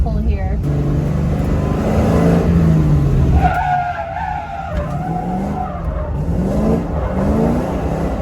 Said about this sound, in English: I'm doing a little test pull here.